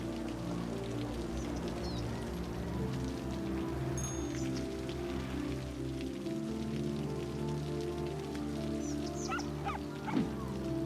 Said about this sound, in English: Rain's getting heavier.